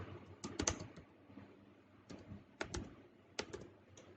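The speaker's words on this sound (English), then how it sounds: "if you already know the name of case, for example, a landmark case by name Indra Sahane, you can type it here" Keys tapped on a computer keyboard while a case name is entered into a legal search site, three quick clusters of close, quiet clicks separated by short pauses, no voices.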